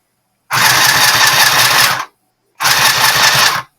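A sewing machine runs in two bursts, each about a second and a half, with a steady whirring motor and rapid mechanical clatter, separated by a brief pause.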